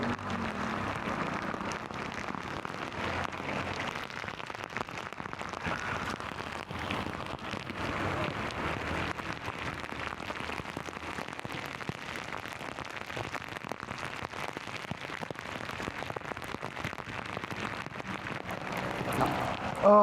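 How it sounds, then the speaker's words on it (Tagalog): Heavy rain pours steadily, a dense hiss of drops drumming on surfaces without pause. "Galit na galit ang ulan."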